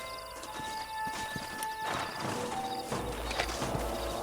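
Horses in the Red Dead Redemption video game clip-clop along close by and whinny, with hooves thudding irregularly. A low rumble and a steady game tone sit underneath.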